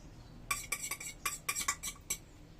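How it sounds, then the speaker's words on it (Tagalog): Eggs beaten for hotcake batter, a utensil clinking quickly against a bowl in a burst of about ten rapid taps, close and fairly quiet, no talking. "nagbati ako ng egg"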